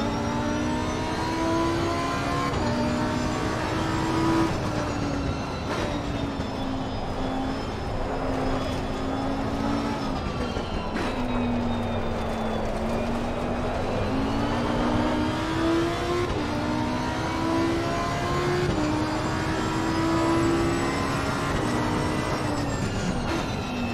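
A high-revving Lamborghini GT race car engine in the racing game Assetto Corsa Competizione roars steadily, its pitch rising and falling through gear changes, loud and close with no talking.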